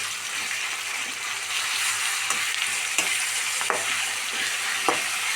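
Onions and green chili sauté in a hot pan for a cauliflower pepper curry, a steady bright sizzle with a few sharp spoon scrapes and taps, close and continuous with no voices.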